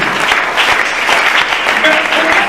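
A church congregation at a Sunday service breaks into loud, sustained applause, dense clapping filling the space steadily without a pause, with a few voices faintly mixed in.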